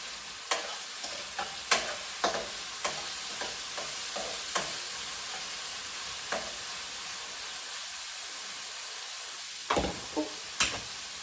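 Celery and potato fry in a pan with a steady, close sizzle, punctuated by a series of sharp utensil clicks and scrapes, bunched early and again near the end.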